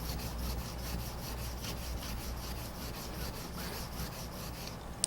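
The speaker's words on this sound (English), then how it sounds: "So now we'll move on to the finishing block. We'll pull back and forth" A knife edge is drawn back and forth over a finishing block while held in an Ookami Gold convexing clamp, giving a steady, close abrasive rubbing with a faint rhythmic pulse, alone without talk.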